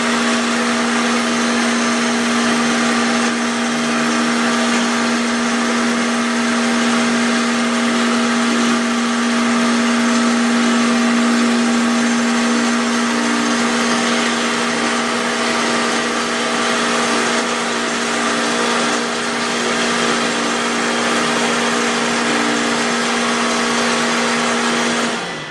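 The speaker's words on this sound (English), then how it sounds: "They pump it back and use the grain bed as a filter." A brewery pump recirculating beer through the grain bed, a constant loud motor hum with a steady tonal whine and a hiss, unchanging and close for the whole stretch.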